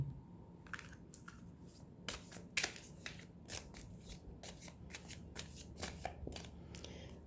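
Tarot cards are shuffled close by in a quiet room, giving soft papery riffles and taps in irregular bursts with no voices.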